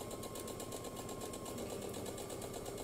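A sewing machine runs steadily while stitching down one side of a patchwork Labyrinth quilt block, a continuous close, fairly quiet motor whir with rapid regular needle pulses.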